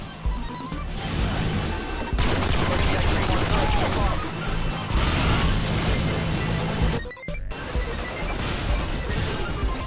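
Automatic rifle spray in Modern Warfare 2 from a Barrett: loud, dense bursts of gunfire and crashing impacts over nearly ten seconds, briefly cutting out twice, with speech mixed in.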